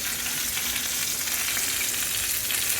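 Cheap ground beef hamburger steak patties, just flipped, fry in a greasy pan with a steady, close, dense sizzle and crackle that runs unbroken throughout, with no one talking.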